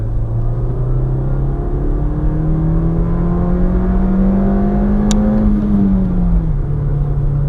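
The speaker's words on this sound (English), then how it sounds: "I'll actually do a second gear pull here." A 2020 Nissan Versa S with a manual gearbox pulls hard in second gear, the engine drone climbing steadily in pitch before dropping off near the end, heard loud from inside the cabin.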